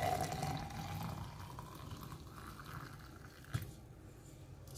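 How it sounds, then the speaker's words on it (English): Water poured into a glass cup: a soft, steady liquid stream at first that thins to a faint trickle, with a small clink near the end, heard close and quiet with no talking. "pour in some amount of this water into a cup"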